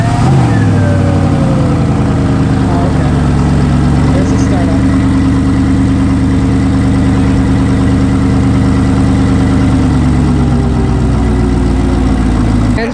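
Pagani Zonda Cinque Roadster idling on a race track, a loud steady engine drone with a faint rise in revs, continuous throughout.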